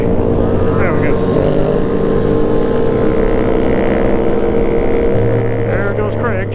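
A motorcycle revs and accelerates past at a Grom bike meet, a loud droning engine note rising and falling throughout, with other bikes idling nearby.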